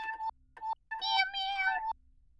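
A cat meow sound effect plays several close, clear meows: two short ones, then a longer drawn-out cry, with quiet gaps between them.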